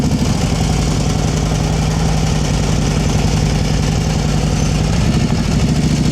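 A motorcycle engine runs steadily and loudly at low speed during advanced slow-speed riding practice in North Carolina, a continuous close rumbling drone with slight rises and dips in throttle and no talking.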